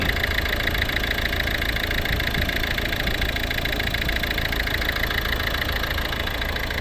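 A 2011 Volvo C30 R-Design with a 1.6 D2 diesel engine idles close by, giving a steady, even drone with a faint diesel clatter throughout and no changes in pitch or any talking.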